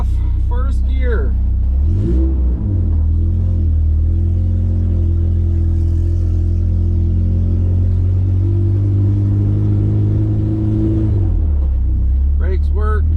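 Honda Integra engine idling low and steady, then pulling away in first gear with a rising rumble that holds through most of the clip before easing off; a voice speaks briefly near the start and end.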